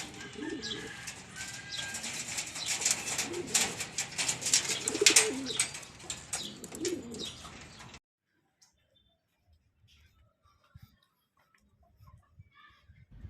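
Racing pigeons coo and rustle close by in a loft for about eight seconds, a busy layered chorus with soft flutters, then near silence with only a few faint taps and stirrings.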